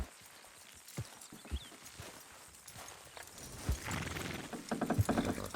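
Horses in Red Dead Redemption 2 straining as they pull, hooves thudding in scattered, uneven steps at moderate distance, with rising rumble and creaking toward the end.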